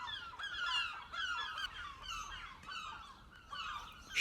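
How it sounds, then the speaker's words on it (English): Loud, repeated harsh calls from a nearby seagull, several squawking bursts in quick succession with short gaps, heard alone without talk. "Me and that seagull are going to fall out."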